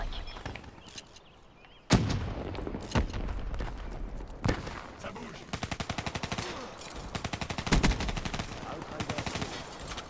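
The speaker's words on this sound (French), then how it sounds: "Le tir partout dans le tas, c'est pas où il tire, mais en tout cas il fait des kills." Gunfire in Call of Duty Black Ops 3, Fracture mode: sharp single shots give way to rapid automatic bursts with evenly spaced cracks, loud and close, over a busy game soundscape.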